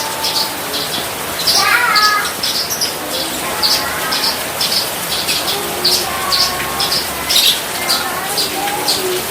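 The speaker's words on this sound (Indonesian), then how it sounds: "video beranjangan yang gacor di saat hujan ini" A Javan bushlark sings outdoors in the rainy season, with repeated bright chirps and warbling phrases over a steady background hiss, close and fairly loud.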